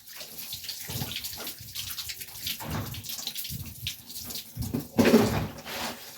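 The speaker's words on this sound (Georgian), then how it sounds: "წყალი მოდის" A tap runs water in an uneven splashing stream that surges and dips, with a louder gush near the end. No one speaks.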